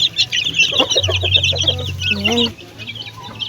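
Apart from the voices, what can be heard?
pet chicks and hens clucking at feeding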